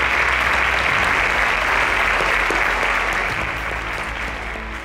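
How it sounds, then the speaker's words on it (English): Sustained audience applause after contestants answer a quiz question correctly, dense and steady throughout and tapering slightly near the end. "Please a round of applause for them."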